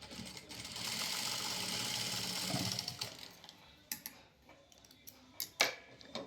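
A sewing machine runs a steady top stitch through fabric on the back panel of a garment, whirring continuously for about three seconds before stopping, followed by a few scattered clicks and handling taps.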